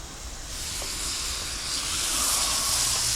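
Fish fillet sizzles steadily in hot bacon grease, a continuous bright hiss that swells slightly louder over a few seconds, heard alone without talk.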